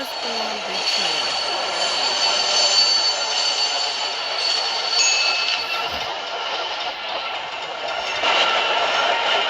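A train runs on rails with a steady, loud broadband rumble and hiss throughout, constant and close, with no clear breaks.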